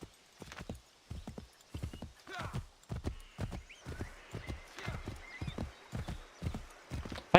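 Horse hooves clip-clop in a steady, loud rhythm of galloping beats in the video game Assassin's Creed 3, with a brief whinny partway through and no talk over it.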